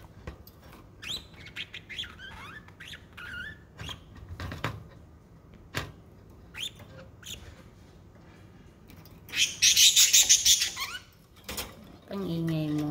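A pet lovebird chirps and squeaks in quick bursts throughout, with a louder, dense run of shrill calls near the end, heard close up in a quiet room.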